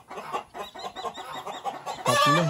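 Chickens and roosters on a farm cluck in a run of short, close calls, ending in a louder, fuller burst of squawking.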